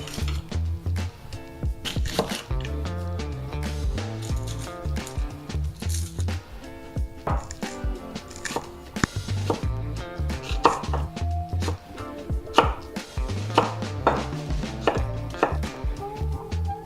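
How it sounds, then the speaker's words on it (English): Three shallots being diced with a knife on a chopping board for mushroom risotto, with rapid rhythmic taps and blade knocks, close and fairly loud, pausing briefly between runs of chopping over soft background music. "So to start with, you need 3 shallots diced."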